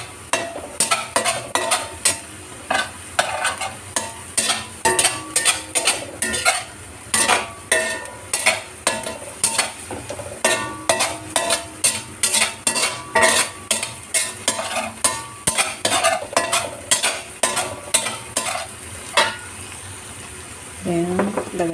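Onion stirred in a hot pan, with repeated sharp scraping and clattering strokes of a utensil against the metal over a low sizzle, steady and close, pausing briefly near the end.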